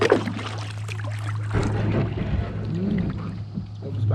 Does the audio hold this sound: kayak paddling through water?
yes